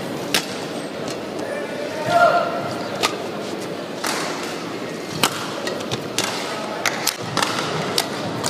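Shuttlecock struck back and forth in a badminton rally at the 2019 World Championships, sharp spaced racket hits roughly every second over a steady arena crowd murmur.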